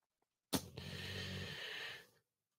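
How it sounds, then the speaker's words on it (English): A man snoring somewhere in the background, one long rasping breath that starts with a sharp snort, then drones on for over a second before fading, with no talk over it. "is someone snoring?"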